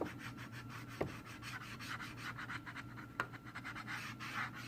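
A hand tool rubs across thin metal tooling foil laid over newspaper, giving a steady dry scratching and scraping close up, with two sharper clicks of the tool along the way.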